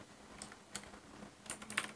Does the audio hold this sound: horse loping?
no